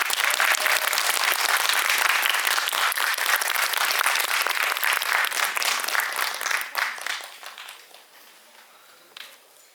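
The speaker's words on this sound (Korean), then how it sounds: "큰 박수로 맞아주세요." A theater audience at a Korean film screening Q&A gives loud, sustained applause to welcome guests on stage, a dense wash of clapping that holds steady, then thins out and fades near the end.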